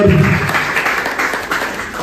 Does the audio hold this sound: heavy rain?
no